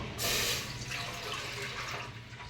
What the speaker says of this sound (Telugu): నేనైతే నీళ్ళు పోస్తున్నాను